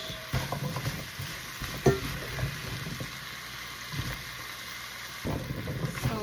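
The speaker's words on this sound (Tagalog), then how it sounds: "Now, let's add the squash." Squash tossed into a pan with frying shrimp, stirred with a spatula: steady sizzle under repeated scraping and clacking strokes, close and moderately loud, with a sharper knock near the start.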